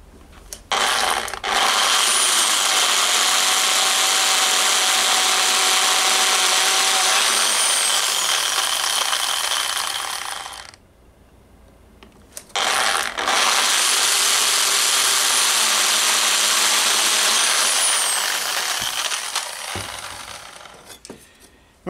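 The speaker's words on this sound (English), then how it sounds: "And then I drill the holes, in this case with a 3mm" A power drill with a 3mm bit whines loudly through armour metal in two long bursts of about ten seconds each, separated by a short pause; close up, no voices.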